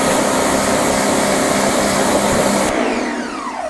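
Water sprays steadily and loudly onto a car wheel as a final rinse, a dense, hissing wash that cuts off near the end and fades into a quieter hiss.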